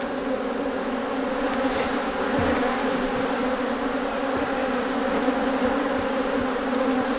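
Honey bees buzz steadily throughout a hive inspection in western Oklahoma, a dense close swarm drone with occasional louder individual bees passing near, and no voices over it.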